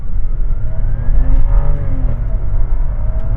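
A Rolls-Royce launches from a standstill in first gear during an acceleration test, its engine giving a deep, loud, steady roar that climbs gradually in pitch as the car pulls hard, heard from inside the cabin.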